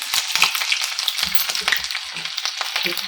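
Asafoetida hits hot oil with crushed ginger and green chillies, giving a bright crackling sizzle with sharp pops and spits that stays lively and close throughout, with no voices.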